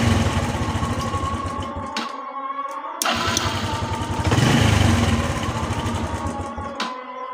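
A motorcycle engine is turned over with the electric starter, catches and runs, cuts out, then restarts with a brief rev before settling into an uneven idle, close-up with no talk.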